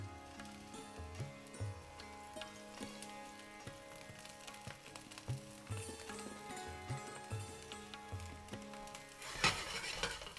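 Aubergine frying in a hot pan makes a low sizzle under music with a steady rhythmic beat. Occasional utensil clinks come through, and a louder burst of sizzling rises near the end.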